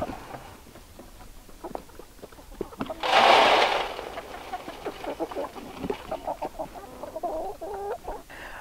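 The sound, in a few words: chickens clucking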